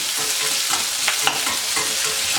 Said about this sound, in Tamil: க்யூப்ஸாக கட் பண்ணி வச்சுருக்கிற ஆனியனையும் இதில் சேர்த்து நல்லா வதக்கலாம்